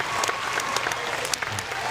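Crowd at a youth lead climbing national championship final applauding steadily, a dense, continuous wash of clapping from many hands throughout.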